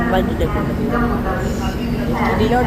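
Inside a train at Ludhiana railway station, a low steady rumble and hum of the carriage fills the background under continuous close talking.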